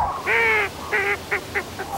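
Cranes call in a valley, a loud nearby series of harsh, bugling cries, one long call followed by several shorter bursts.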